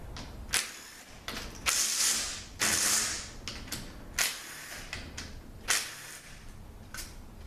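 Bolts being loosened and removed from the valve body of a Toyota A340 automatic transmission: sharp ratcheting clicks and metallic rattles in short close bursts, with quieter handling noise between them.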